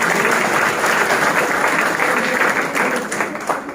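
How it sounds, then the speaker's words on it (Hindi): Sustained applause from a seated audience at a network-marketing motivational talk, dense and steady clapping filling the whole stretch at close, loud level with no voices standing out. "तो एक बार ताली हो जाए पनीर ले याद करके"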